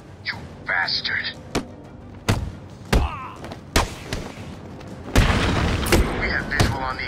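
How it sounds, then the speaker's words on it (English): Explosions and heavy impacts in the video game Batman Arkham City, a series of sharp booming blasts and thuds spread over several seconds over dense game noise and a talking voice. "We have visual on the explosion."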